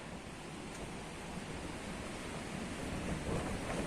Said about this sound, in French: Là, vous entendez le vent